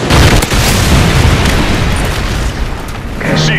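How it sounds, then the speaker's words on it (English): A predator missile explosion in Call of Duty Modern Warfare 3, with a massive, loud boom whose dense rumbling roar fills the whole moment and slowly fades, followed by faint electronic game tones. "Friendly predator missile inbound."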